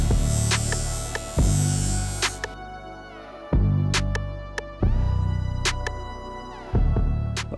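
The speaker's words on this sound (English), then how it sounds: "All I used on these were the two wheels on the buffer, the flap wheel, the fine cleaning wheel." A bench buffer with a flap wheel and a fine cleaning wheel polishes Suzuki RM250 motorcycle linkage arms, giving a steady motor hum with repeated surges as metal parts are pressed against the spinning wheels.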